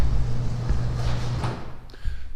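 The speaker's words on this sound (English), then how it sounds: "I'll wait till the garage door closes" A garage door closes with a steady mechanical rumble that runs for about two seconds, then stops with a soft thud.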